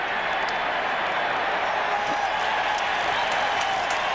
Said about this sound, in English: The applause you hear is because the fans here in Philadelphia trying to mimic the Cubs fans by throwing the baseball back